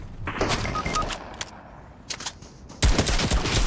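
Bursts of automatic gunfire in a shooter video game, rapid close rattling volleys with brief gaps between them and a heavier, louder barrage near the end.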